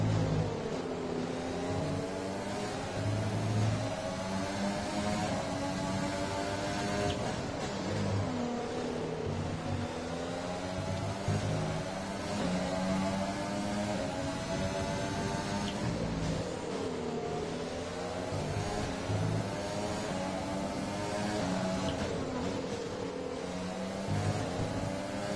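Simulated Formula 1 car engine from the F1 2020 racing game at the Russian Grand Prix, a loud, continuous high-pitched whine that rises and falls through repeated rev and gear-change sweeps, with no talk over it.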